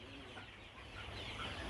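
Colour bird chickens on a poultry farm cluck and murmur together in a dense, continuous flock chatter, fairly faint and without any talking.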